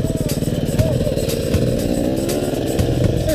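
A four-stroke dirt bike engine runs steadily nearby, a loud continuous throbbing idle with a slight rise in revs, heard alone without talk.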